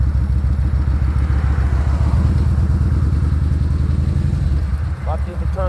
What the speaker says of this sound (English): Darksiding, the Kawasaki Vulcan. It's a pretty big bike, over 800 pounds.